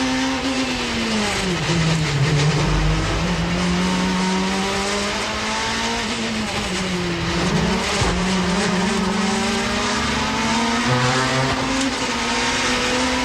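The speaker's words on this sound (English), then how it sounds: "The rumble of the curbs, the Cavalier bounces over them" A Vauxhall Cavalier touring car racing on a 1990s touring car circuit, its engine note dipping and climbing as it bounces over curbs, loud and continuous from onboard with the rattle of the car.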